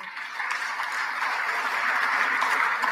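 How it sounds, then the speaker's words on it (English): A conference audience at an energy summit in Tanzania claps in a steady, sustained round of applause, broad and even throughout, with no one speaking over it. "Let's give him a round of applause."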